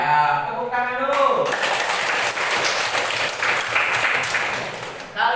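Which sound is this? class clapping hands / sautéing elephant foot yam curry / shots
class clapping hands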